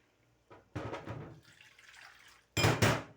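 Water is poured into a besan batter for kadhi, two separate splashing pours with a quieter gurgle between them, close and fairly faint in a home kitchen.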